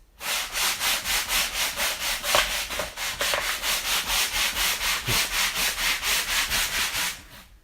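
Rhythmic back-and-forth sanding strokes on a Nappa Dragon Ball Z model build, steady and close, around two strokes per second for about seven seconds, with no talking.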